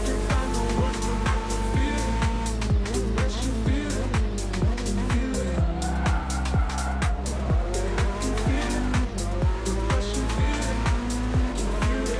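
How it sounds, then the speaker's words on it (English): A sports car in a racing video game drifts with continuous tire squeal over a loud engine howl, joined by repeated rhythmic clicking, with a voice speaking underneath. "Well, we are drifting everywhere."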